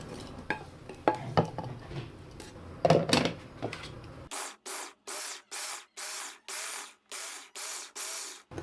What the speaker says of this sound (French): je vais blender ce mélange